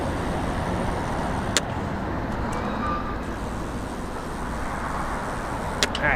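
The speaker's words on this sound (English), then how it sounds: "Quite a bit of traffic on the road still." Steady road traffic passes close by on a busy road during a bicycle commute, a continuous broadband rumble of cars and trucks with a couple of brief sharp clicks, no voices.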